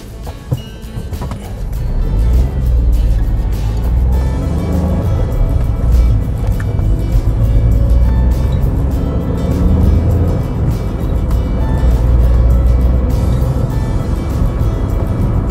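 A Chevrolet Spark with a manual gearbox and gasoline engine pulling away on the accelerator, a loud steady engine drone that rises after a quieter start and holds for the rest of the time.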